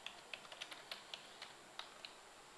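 Quick, light keystrokes on a computer keyboard while filling in a form in real estate software, an uneven patter of about a dozen soft clicks over a quiet background.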